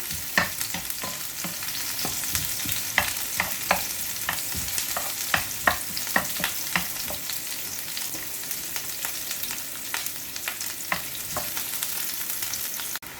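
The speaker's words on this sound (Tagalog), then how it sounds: "i-fry lang saglit mga idol para crispy pa rin." Garlic and turmeric rice noodles (bihon) fry in a pan with a steady close sizzle, punctuated by frequent sharp clicks and scrapes of a utensil stirring against the metal.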